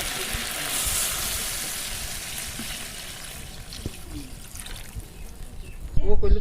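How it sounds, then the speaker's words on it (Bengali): Water trickles and pours into a pan of frying duck curry with potatoes, a steady liquid stream with faint sizzling, ending in a louder clatter, under a voice speaking. "এখন দেওয়া হবে ঝোলের পানি।"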